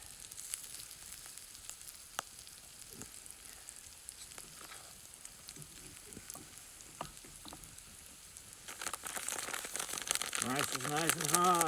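Potatoes frying in a pan outdoors alongside mustard greens, a faint crackling sizzle with scattered pops that grows louder and denser toward the end as the pan is stirred.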